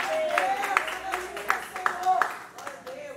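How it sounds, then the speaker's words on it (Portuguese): Rhythmic clapping from a church congregation at a Pentecostal prayer service, steady claps mixed with a voice and singing. "você pode aplaudir o nome do Senhor."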